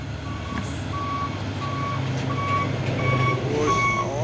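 An orange Fuso tronton truck backs up, its reversing alarm beeping in a steady, evenly spaced series over a rumbling diesel engine, loud and fairly close, with a brief hiss near the end.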